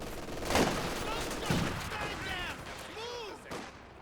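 Faint LMG machine-gun fire in Company of Heroes 2 battle, scattered bursts and distant shots under a steady wash of combat noise, with brief voice lines from units.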